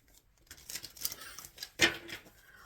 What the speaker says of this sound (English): let's go ahead and get shuffling